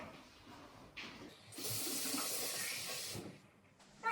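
Hot water poured into the base of a stovetop coffee maker makes a brief trickle and then a steady hissing pour lasting under two seconds, faint and close, with quiet handling noises around it.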